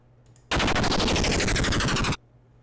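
A big explosion effect from a Unity sky-shooter game bursts in loud and dense, a sustained crackling roar lasting under two seconds before cutting off abruptly into quiet.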